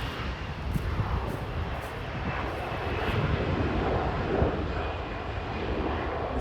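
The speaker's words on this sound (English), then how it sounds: "The same rogue plane is taking off now." A plane takes off from Grantley Adams International Airport in Barbados, a broad roaring jet rumble heard from nearby ground level that holds steady and swells slightly, with no talk over it.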